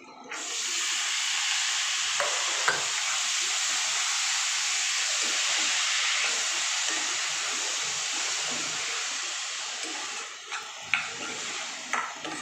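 Amaranth leaves land in a hot pan of browned oil and fry with a steady, loud hissing sizzle that runs nearly unbroken, with a few scraping stirs and clinks near the end.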